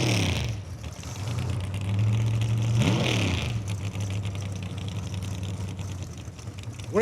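Race car engines idling at a drag raceway, a steady low drone with one brief rev swell midway, then settling before being shut off; loud and continuous with no voices.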